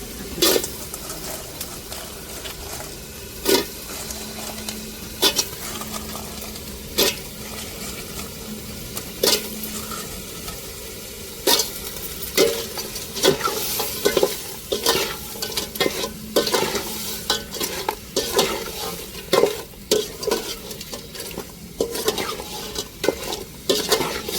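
Cleaned, cracked crab pieces for crab biryani are tossed and stirred in a pan, with sharp knocks and scrapes recurring irregularly over a low, steady sizzle close by.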